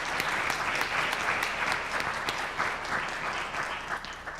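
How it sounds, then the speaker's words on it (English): A conference audience applauds the respondents, steady dense clapping from a large crowd, continuous and even for several seconds. "I'd like to give a round of applause to our respondents."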